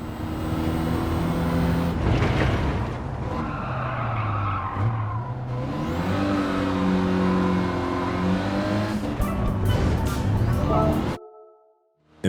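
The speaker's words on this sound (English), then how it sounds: "The B10 test has you driving a 16 Renault Clio RS 220 Trophy." Renault Clio RS 220 Trophy in a racing video game license test, engine droning and revving through shifts with tires squealing and skidding, loud and continuous before cutting off abruptly near the end.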